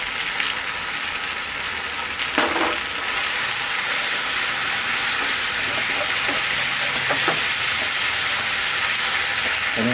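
Noodles stir-fried with dark soy sauce and a little garlic in a hot pan make a loud, continuous hiss and sizzle, with occasional scrapes and clatters from tossing.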